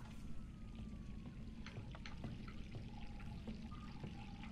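Steady tap water running in the dark setting of Resident Evil 3, a continuous pouring wash with a low rumbling bed and scattered faint drips and clinks, no talk.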